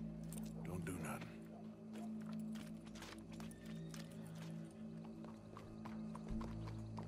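Horse hooves clopping steadily on a hard surface in the video game Red Dead Redemption amid a busy crowd hum and low background music, with a brief whinny near the start.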